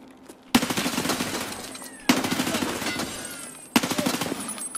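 Escape From Tarkov gunfire: three loud, sustained bursts of rapid automatic fire, each starting abruptly and trailing off, with short gaps between them.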